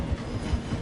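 Train running in Red Dead Redemption 2, slowing as it passes through a station; a steady low rumble of rolling wheels with faint rhythmic thumps, heard alone.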